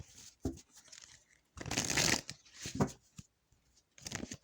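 Tarot cards are stacked and shuffled on a table in bursts of riffling, crinkly rustle, the loudest run in the middle, with quieter taps and shuffles around it and no talk.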